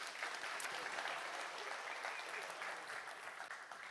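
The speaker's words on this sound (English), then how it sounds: "Give them an applause." Conference audience applauding in a hall, a dense, steady wash of many hands clapping at once that holds evenly for about four seconds with no voices over it.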